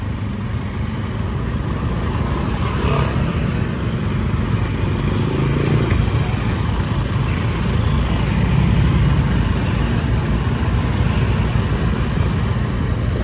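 Dense street traffic in Gorontalo, Indonesia, with motorcycles and cars passing continuously, a loud steady roar of engines and tyres with occasional clatter and no pause.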